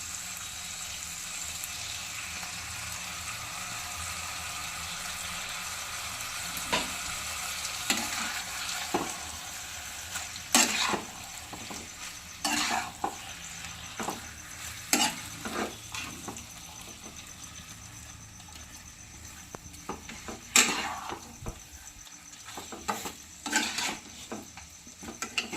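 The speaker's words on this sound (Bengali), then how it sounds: "চিকেনটাকে নেড়ে নিয়েছি।" Chicken masala with tomato paste fries in a pan, giving a steady close sizzle under repeated scraping stirs of a spoon against the pan, with no one talking.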